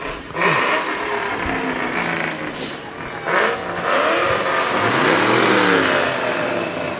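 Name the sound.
Ford muscle car engine revving in parade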